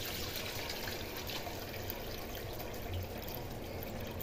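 Rice being washed in water, with a steady, close wash of running and splashing water throughout and no talking.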